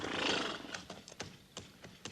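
A horse whinnies in a Western radio drama, followed by several sharp hoof clip-clops on rocky ground, close and clear with no voices.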